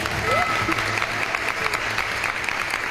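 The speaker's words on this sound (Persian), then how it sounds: "تشویقشون کنید." An audience at a quiz game show applauds steadily and fairly loudly, a dense wash of clapping with faint cheers and a voice briefly calling out over it.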